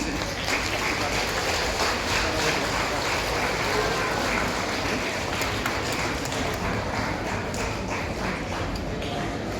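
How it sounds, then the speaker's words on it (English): Applause from an audience at a college publication release ceremony, a dense, steady patter of clapping that holds for the whole stretch, with a busy mix of room noise beneath it. "Please give a big round of applause"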